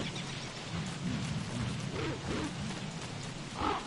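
Game rain and thunder during a springtime frog rain in the survival video game Don't Starve, a steady rain hiss with low thunder rumbles and a brief louder swell near the end.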